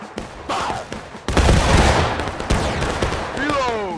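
In a video game, a musket volley erupts as a sudden loud, ragged burst of overlapping shots, then crackles on and fades, with a shouted voice heard over the gunfire.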